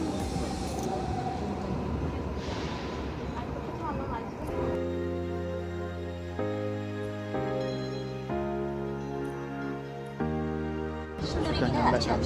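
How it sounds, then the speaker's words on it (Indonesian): Seoul subway ride on the blue Line 4: steady rumble of the carriage with a chime or announcement tones partway through, and people chatting over the train noise. "Yang ini aku naik kereta yang warna biru."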